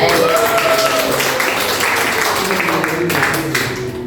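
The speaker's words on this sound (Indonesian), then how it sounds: "Kita beri aplaus untuk kelompok 1." High school classroom applauding a discussion group, a loud close burst of many hands clapping that fades toward the end, with some voices under it.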